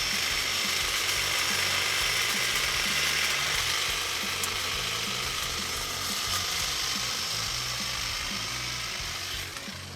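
A Ryobi 18V cordless hedge trimmer (P2660) cuts through a tree with a steady, close, rattling mechanical buzz. It runs unbroken throughout with no talking.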